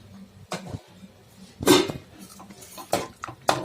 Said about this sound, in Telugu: ఇప్పుడు ఇందులో సేమియా వేసుకుందాం